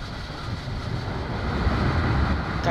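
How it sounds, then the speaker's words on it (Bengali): The Silk City Express crosses the new double-line Jamuna bridge at about 85 km/h, heard from onboard as a continuous low, rumbling roar with slight fluctuations and no voices. "কাঙ্ক্ষিত ট্রেনটি যমুনা সেতু প্রবেশ করলো।"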